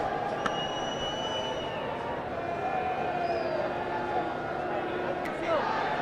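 Crowd disturbance in the stands at a 2002 one-day international cricket match in Rajkot, a steady broad roar of a large distant crowd with faint whistles, constant throughout under commentary talk.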